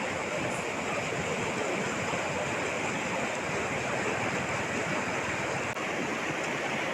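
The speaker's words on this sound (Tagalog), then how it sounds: "Ang lakas ng tubig." Strong rushing floodwater in Davao de Oro after overnight rain, a constant, dense roar of churning water heard up close, unbroken and even in loudness, with no talking.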